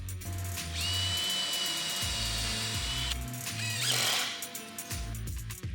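A power drill whirs in steady bursts, spinning up and bogging down as it drives screws into a wooden cabinet, with a ratcheting clutch clatter near the end.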